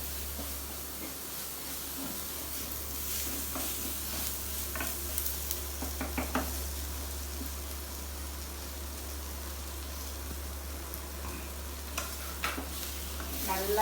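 Sautéing in a clay pot, a garlic butter chicken preparation, gives a continuous low sizzle with a few clustered stirring scrapes around the middle and near the end, close and even throughout.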